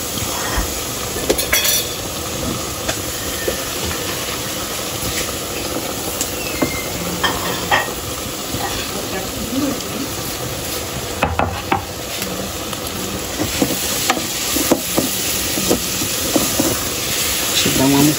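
Finely grated carrot sizzles and fries in a pan over softened golden onion while a spoon stirs it. A steady hiss runs throughout, with frequent scrapes and knocks against the pan.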